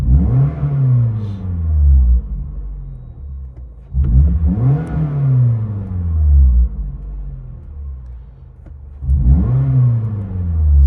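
A 2016 Scion tC 1.5L with a DTM stainless steel aftermarket exhaust revs three times, heard from inside the cabin, each rise swelling into a deep, loud exhaust rumble before dropping back to idle.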